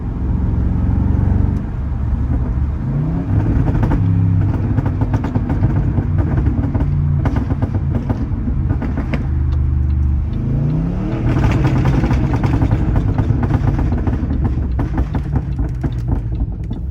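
A Range Rover's exhaust rumbles and burbles loudly up close, with the engine rising and falling through several throaty revs and crackles.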